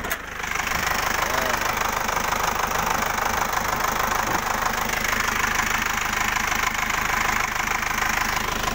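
A 2004 Isuzu Panther capsule LS diesel engine idles after being started, a steady close-up rattling drone with a faint knocking rhythm that holds evenly throughout, no voices over it.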